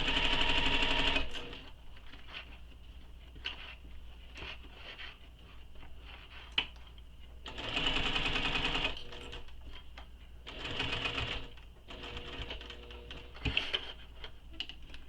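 A sewing machine stitches fabric along a pocket edge in bursts, running in several loud rapid rattling runs separated by pauses with soft handling clicks, close up and alone.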